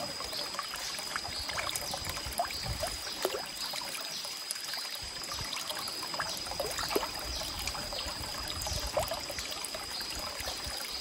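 A small trickle of irrigation water runs in a rice field planted through plastic sheeting, a steady low dribbling and splashing heard close by without talk.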